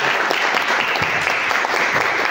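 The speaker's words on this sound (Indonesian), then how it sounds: "Tepuk tangan dulu dong." An audience at a game design workshop applauding to welcome a speaker forward, dense sustained clapping at steady loudness from start to end.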